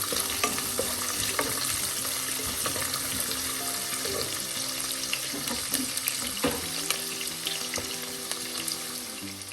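Onion and garlic sautéing over a low flame, hissing steadily in the pan while a spoon stirs and scrapes through them in frequent small knocks.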